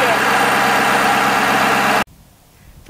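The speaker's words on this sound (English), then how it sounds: "V8 diesel engine." A Ford F250 pickup's 6.7 liter Power Stroke V8 diesel engine idles loudly and steadily close up for about two seconds, then cuts to near silence.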